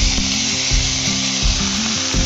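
Pointed gourd pieces fry in hot oil alongside a fried fish head, a loud, steady hissing sizzle over a pulsing low hum.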